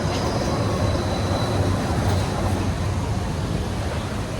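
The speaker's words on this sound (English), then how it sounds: "Yeah, there's a tram." A Disneyland tram rolls past at close range in the morning, a steady, loud rumble of wheels with a faint high squeal running throughout and no talking.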